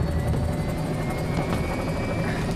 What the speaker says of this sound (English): Is that just a really fast helicopter?